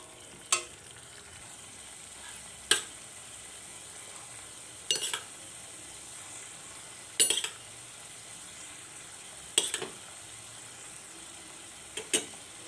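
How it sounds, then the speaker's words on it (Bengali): Whisked yogurt is stirred into sizzling paneer rezala, with a soft continuous frying hiss and a spoon clinking against the pan roughly every two seconds. "এখন আমি এর মধ্যে দিয়ে দেব ফেটিয়ে রাখা টক দই।"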